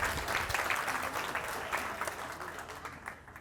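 At a college all-staff gathering, an audience breaks into a round of applause, a dense wash of many hands clapping that fades slightly toward the end.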